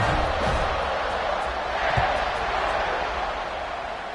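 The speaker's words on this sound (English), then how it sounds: "this crowd is buzzing after that last score" Crowd noise from a Madden football video game, a steady broadband stadium buzz that holds constant through the clip with no distinct cheers or voices standing out.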